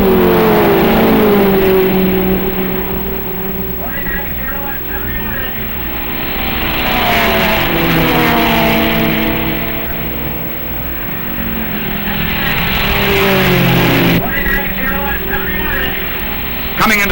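Porsche GT Carrera race cars at Road America in 1958 roar past in a loud, continuous engine drone, with revs rising and falling as they run close together, while a voice talks over the noise throughout.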